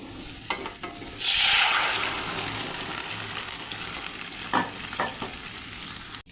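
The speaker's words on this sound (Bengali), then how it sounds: "এবার তরকারিটা আমি কড়াইতে ঢেলে দেব।" Vegetable curry tipped into a hot karahi over oil tempered with cumin, radhuni, bay leaf and dried chillies bursts into a loud, bright sizzle, then settles into steady frying with a few light clinks of a spatula.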